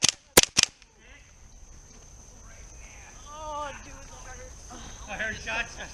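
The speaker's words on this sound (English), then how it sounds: "I heard shots." A VFC SCAR-H MK17 gas blowback airsoft rifle fires three sharp, close, snappy shots in quick succession at the very start, followed by faint outdoor ambience and chirping.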